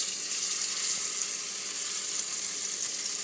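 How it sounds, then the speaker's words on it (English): Pistachio-crusted salmon gently cooking in a pan, a soft, even sizzle holding steady and close throughout with no talk. "So here I have my pan. You just want to gently cook it."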